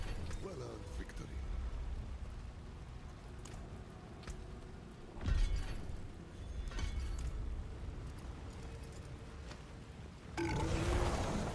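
A Diablo 4 character lets out a short, gruff burp amid game mechanisms and clanking effects, followed by a burst of louder in-game noise at the end.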